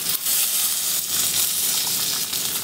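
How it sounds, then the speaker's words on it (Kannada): Green chilli, ginger, garlic, curry leaves and onion fry in hot oil for a chana masala gravy, a loud continuous sizzle and hiss with crackles and brief stirring scrapes, heard up close without talk. "ಇಷ್ಟನ್ನು ಫ್ರೈ ಮಾಡ್ಕೊತಾ ಇದ್ದೀನಿ."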